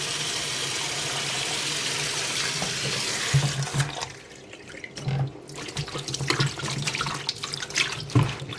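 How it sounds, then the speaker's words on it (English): Beef is washed under a running kitchen tap for Jamaican pumpkin beef soup, with a steady close rush of water into a sink, broken by splashes and handling noises as the meat is rinsed, no talking. "I am going to go ahead and get my meat washed."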